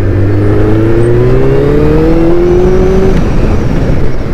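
Suzuki Hayabusa motorcycle in a market street, its engine revving up with a steadily climbing pitch as it pulls away, loud and close amid a constant rush of wind-like noise.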